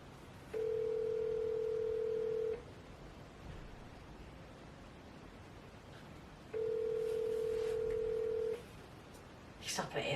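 An outgoing phone call rings back with two long, steady tones separated by a pause. They are fairly clear over a quiet room hiss, with faint movement noises near the end.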